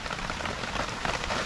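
Rain falls on a campsite at Balsam Lake Provincial Park, a steady, dense hiss of drops pattering on surfaces, fairly close and uninterrupted, with no voices.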